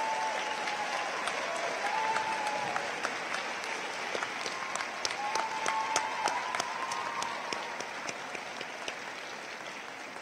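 A crowd at a community college commencement applauds honor students, many hands clapping in a broad reverberant hall with a few sharp individual claps standing out, while a faint voice is heard and the applause gradually tapers off.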